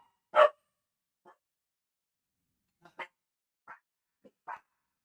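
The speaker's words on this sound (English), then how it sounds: "The dogs are going crazy." Several dogs bark in separated bursts at a moderate distance: one loud bark, then a faint one, then a cluster of four sharper barks spaced across a few seconds, with quiet between them and no talk.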